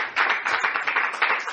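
A church congregation claps together in sustained, dense applause, steady and fairly loud for the whole moment with no voices over it.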